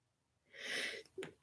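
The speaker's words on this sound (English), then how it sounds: "Oh, I gotta sneeze, I think." A single faint sneeze comes as a breathy inhale that builds into a short burst, with a small snort at the end, alone in a quiet room.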